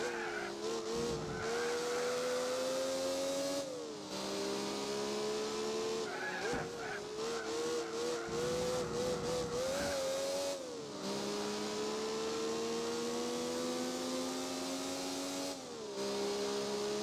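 Race car engine note from the Gran Turismo 4 video game, a buzzy, grating tone that climbs through the revs and drops at each gearshift, steady and continuous, with tire squeal at times and someone talking over it.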